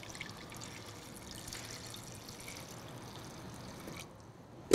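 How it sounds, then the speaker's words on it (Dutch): Water pours steadily into a pan of potatoes laid across the bottom, a soft continuous splashing that holds even for about four seconds before cutting off, with a small clunk at the end. "En dan ga ik die net onderzetten met water."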